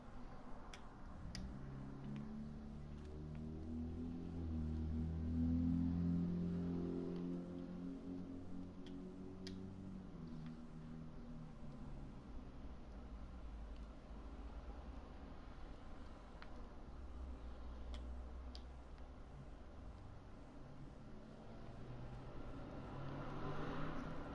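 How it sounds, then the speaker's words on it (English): Low, distant rumble of cars passing on a street, a slow swell and fade of traffic noise with faint ticking clicks over it. "You hear the cars going past."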